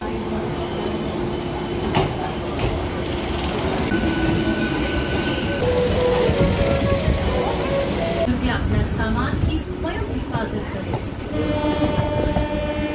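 Busy Tarakeswar railway platform ambience with an Arambagh–Howrah local passenger train rumbling and squealing nearby, a horn sounding, and people talking in the background.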